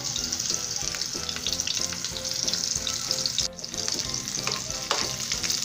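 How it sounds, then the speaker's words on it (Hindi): Ingredients frying in hot oil for a homemade ear-pain remedy oil give a steady, close crackling sizzle with light stirring, briefly dipping midway before resuming; no one speaks. "अब हमारा ऑयल गर्म हो गया है तो अब हम ये डाल देंगे"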